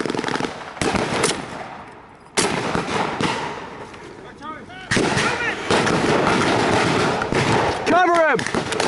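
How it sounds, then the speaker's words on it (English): Covering gunfire crackles in a D-Day reenactment battle at the La Fière Bridge: loud, close bursts of rifle and machine-gun shots in rapid succession, with shouting voices mixed in and whistling, warbling tones between volleys. "give us covering fire, James!"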